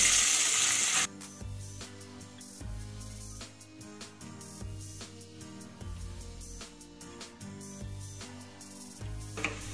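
Chopped onion from two large onions drops into hot oil tempered with bay leaf for a chicken and potato curry, a loud burst of sizzling for about a second that then settles beneath steady background music.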